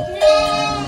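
A sheep or lamb in a village flock gives one loud, drawn-out bleat close by, starting abruptly and wavering steadily to the end.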